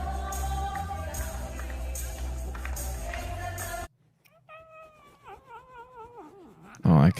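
A cat yowls and wails in a loud rising-and-falling cry with a sharp peak at the end, following a busy stretch of music and crowd-like noise that cuts off abruptly.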